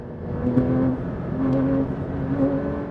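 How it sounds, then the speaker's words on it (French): A Porsche 911 S/T engine hums steadily in third gear, swelling briefly a few times as the throttle is blipped, close and fairly loud. "Je vais essayer de vous faire juste écouter la réactivité du moteur"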